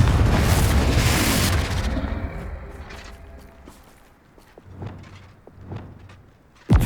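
A Confringo fire spell explodes in Hogwarts Legacy with a loud, close blast that rumbles and fades over a few seconds, followed by faint steps and small impacts and another sharp hit at the end.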